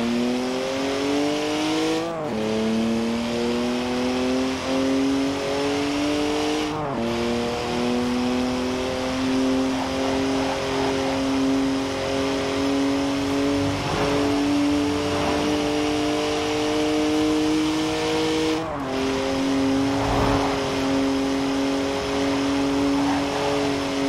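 BMW M Coupe engine in a driving video game with manual clutch shifting, revving steadily and climbing through the gears, with sharp breaks at each upshift, loud and continuous with no talk.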